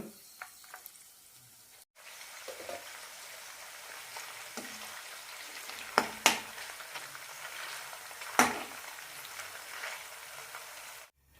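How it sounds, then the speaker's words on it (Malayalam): Chicken pieces fry in hot oil for a chicken pickle, giving a steady, close sizzle that runs for most of the stretch after a brief quiet start, with a few sharp clinks of utensils cutting through. "ബാക്കിയുള്ളത് കൂടി വറുത്തെടുക്കാം"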